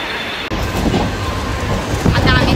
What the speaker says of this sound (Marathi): हे बघा ट्रेनमध्ये आहे आम्ही.